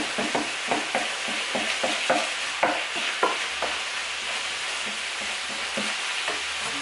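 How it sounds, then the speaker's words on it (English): Ground meat frying in a pan for tater tot casserole, stirred with a spoon that gives a run of close, irregular scrapes and taps over a continuous sizzle, with no voices. "I'm going to give this a stir."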